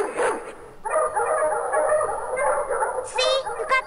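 Dog barks from the 102 Dalmatians: Puppies to the Rescue video game come in a few sharp, bright yelps over a synthetic game soundtrack, loud and close.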